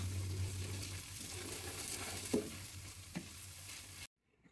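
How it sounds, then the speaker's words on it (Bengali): Sliced bitter gourd with chili and garlic frying over high heat in a pan, a soft steady sizzle with a couple of brief stirring knocks before it cuts off abruptly near the end. "সবগুলো উপকরণ দিয়ে আমি আবার কিছুক্ষণ ভেজে নিব।"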